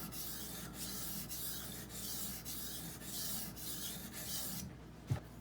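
A Benchmade Bugout knife with a 20CV steel blade is stroked across a wet Norton water stone, giving a quiet, steady run of rasping scrapes with short pauses between strokes, then a brief knock near the end.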